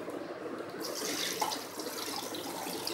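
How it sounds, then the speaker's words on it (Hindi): Water pours steadily into a bowl of chicken for a degi chicken masala, a continuous splashing gush close by that brightens after the first second. "ये मैं पानी डाल के रख दूँ"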